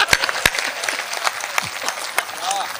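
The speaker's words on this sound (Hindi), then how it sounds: "बजा एक बार जोरदार ताली" An audience at a Hindi comedy poetry gathering claps in a dense, sustained round of applause with sharp individual claps up close, while a voice is faintly heard amid it.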